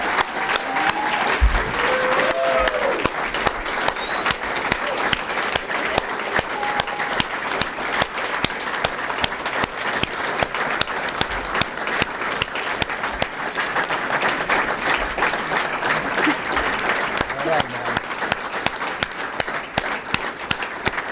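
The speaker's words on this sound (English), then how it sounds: "Can I get a polite round of applause for our newest dip?" A polite round of applause at a Franklin & Marshall men's soccer press conference, steady dense clapping from a small group that carries on without a break for about twenty seconds.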